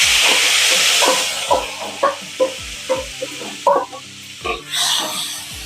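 Chopped ginger and lemon peel fry in hot oil over low heat, giving a steady, loud hiss that eases as a spatula scrapes and stirs the pan in short repeated strokes.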